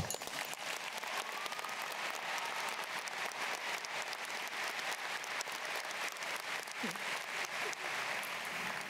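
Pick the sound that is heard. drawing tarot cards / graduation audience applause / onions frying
graduation audience applause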